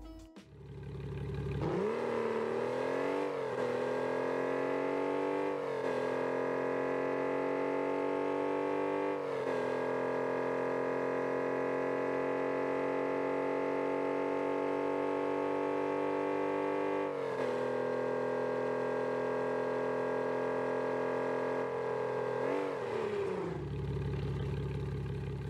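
Engine of the Hot Wheels Gazella GT in a racing video game, loud and close, roaring up from idle into long sustained high revs with several brief gear-change dips, then dropping back down near the end.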